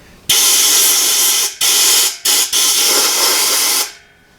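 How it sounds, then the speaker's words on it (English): An aerosol can sprays Fluid Film rust-proofing fluid inside a cylinder head in a loud, steady hiss, briefly cut off a few times before one last long burst fades out. "It's fogging out of here"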